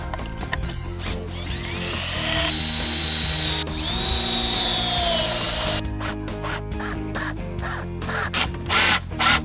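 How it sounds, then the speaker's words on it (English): Power drill driving pocket screws into a wooden table frame, several loud whirring bursts with rising and falling pitch, separated by short pauses and ending in quick choppy pulses. "Now we're gonna put this together and attach it with pocket screws."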